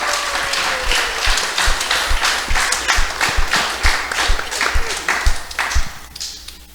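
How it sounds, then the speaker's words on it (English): Festival audience applause at a Srila Prabhupada celebration, fairly loud and close with a few distinct claps standing out, the clapping tapering toward the end. "let's hear a round of applause for all of these"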